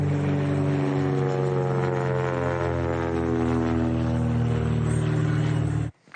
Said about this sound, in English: flew his plane over her home in Schuylerville, New York, multiple times a week